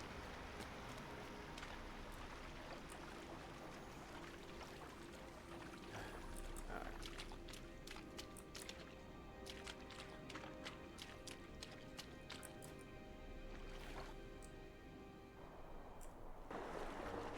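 A character swims through water in Lord of the Rings Online, making steady splashing and churning strokes with repeated clicky game effects layered over it. Someone talks over the sound.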